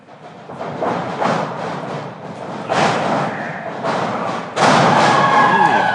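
Wrestler slammed onto the ring mat by a swinging neckbreaker in a championship wrestling match, heavy close thuds landing amid continuous crowd noise.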